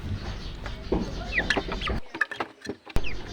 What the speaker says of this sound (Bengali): আর এই হচ্ছে আমাদের ব্রয়লার, এগুলোকে আমরা আপাতত ভাতের সাথে ভুসি মিশিয়ে খাওয়াচ্ছি।